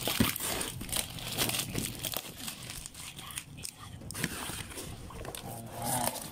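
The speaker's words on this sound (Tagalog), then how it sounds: "Tanggalin natin yung mga tape." Packing tape is peeled and torn off a parcel holding an Infinix Smart 9 phone, close crinkling, ripping and crackling of plastic in irregular bursts across the whole stretch.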